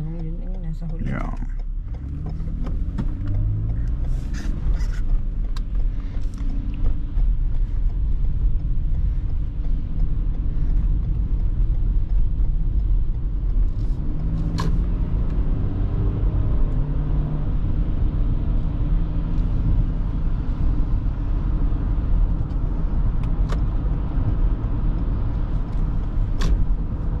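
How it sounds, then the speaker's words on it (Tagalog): Heavy road traffic seen from a truck in the Philippines, a steady loud low rumble of car engines with occasional creaks and mechanical clatter, voices talking briefly at the start. "God, grabe ng traffic dito."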